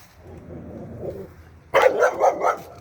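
A neighbor's loose dog barks in a sudden run of loud, close barks after a quieter stretch of low background noise.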